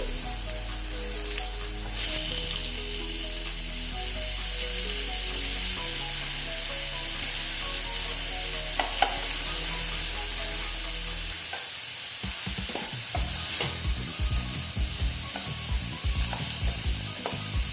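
Ash gourd frying in a pan on a lowered flame, a steady close sizzle with scraping stir strokes, and busier, louder clattering stirring toward the end; no one speaks.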